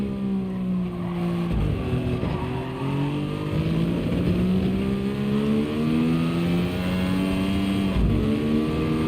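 Race car engine in GT Sport under full throttle after a shift into third gear, a loud, steady high-pitched drone climbing in pitch through the gears, with a brief dip at a gearchange and faint tyre squeal.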